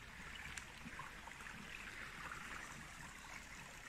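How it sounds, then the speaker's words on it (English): Soft, steady rush of a small forest waterfall trickling over rocks in a valley, faint and continuous, with no voices. "Little waterfall. Just a tiny little one through all the rocks."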